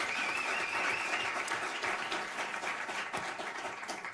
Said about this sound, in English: I'm assuming there would be more than one person applauding.